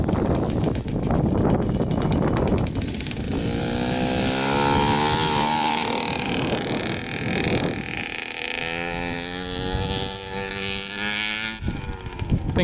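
A Kawasaki KX 65 two-stroke dirt bike engine revs up and down in a yard, a loud, buzzy whine rising and falling across several long pulls, close by, with a brief sharp blip toward the end and no talk.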